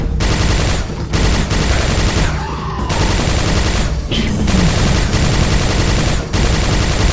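Rapid continuous Hyperblaster fire in the video game Quake 4, loud and close, rattling in long sustained streams broken by a few short gaps.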